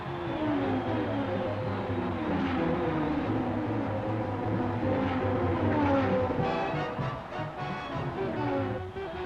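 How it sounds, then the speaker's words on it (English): Thirty-three race cars at Indianapolis in 1965 run in formation behind the pace car at about 100 mph. Their engines make a loud, dense, continuous roar of layered drones that shift gradually in pitch, with no voices. "all 33 cars are moving down the racetrack"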